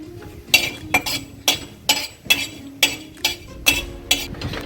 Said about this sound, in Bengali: এই যে গরম মশলাটা এটা একটু শুকনো কড়াই নেড়ে নেব।